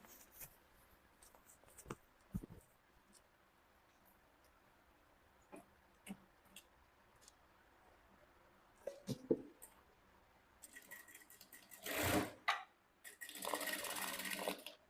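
A sewing machine stitches the inseam of Ankara print shorts in short bursts, with quiet handling clicks and fabric rustles between them and louder sustained whirring runs near the end.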